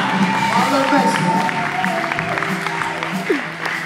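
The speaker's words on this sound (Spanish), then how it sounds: "¡Aplaude de fuerte a los mexicanos!" Applause from a church revival audience in Houston, Texas, fairly loud and steady throughout, with crowd noise, cheering voices and someone talking over it.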